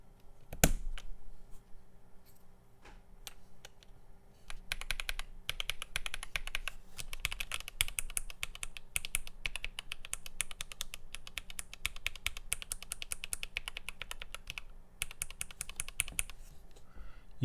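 Typing on a Keychron Q1 mechanical keyboard fitted with purple panda switches: dense, close clacking keystrokes in fast irregular bursts, with a brief pause near the end and a louder single click at the start.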